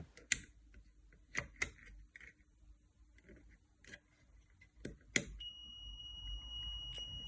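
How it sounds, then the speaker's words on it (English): A multimeter on continuity test is checked against a button in a 35-year-old PYROBOT toy robot. A few scattered clicks from the probes come first, then the meter gives a clear, steady beep that holds until the end. "It has to beep when we have continuity on the button."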